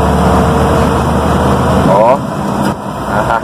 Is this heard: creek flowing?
no